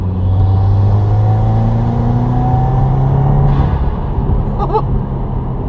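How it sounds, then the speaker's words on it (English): Inside a 2016 Subaru WRX with a COBB Stage One tune, a loud, steady engine drone and intake whoosh rise under acceleration, then ease off, with a short burst of higher-pitched noise near the end. "You get this crazy cool induction noise."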